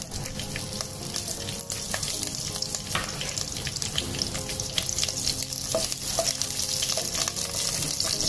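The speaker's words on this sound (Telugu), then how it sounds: "ఘీ హీట్ ఎక్కింది, పచ్చిమిర్చి వేస్తున్నా" Green chillies fry in hot ghee with a steady, close crackling sizzle that continues throughout, joined by occasional light stirring clicks.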